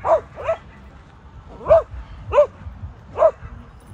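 A husky barks five times at close range, each a short, sharp, slightly whiny bark with irregular gaps between them.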